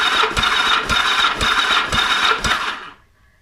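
A Yamaha XS1100 engine with no carburetors cranks over on the starter for a compression test, giving about five rhythmic, evenly spaced whirring compression strokes up close before stopping abruptly.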